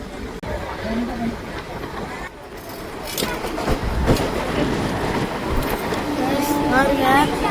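Train noise at a railway station early in the morning: a continuous rumbling, clattering wash of rail sound that grows louder toward the end, with faint voices mixed in.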